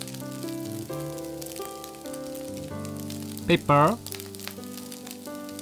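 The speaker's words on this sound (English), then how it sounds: "Add the char siu and continue stirring." Char siu pork and egg fried rice sizzles and crackles steadily in a hot pan while being stirred, with a brief voice speaking over the frying.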